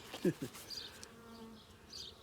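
Honeybees from a package hive buzz close by during an inspection, a soft continuous hum with a couple of quick nearby passes at the start.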